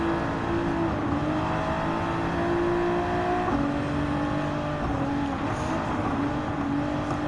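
A Toyota GR Supra engine revs steadily in Gran Turismo 7, its tone climbing through the gears along a straightaway toward a tunnel, loud and sustained with shifting pitch and no talk.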